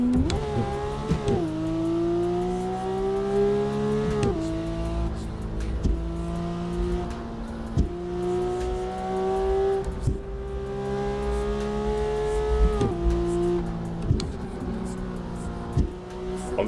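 Honda Civic Type R engine in a driving video game, revving loudly and continuously with rising pitch sweeps and sharp drops at each gear shift, close and steady with no talk.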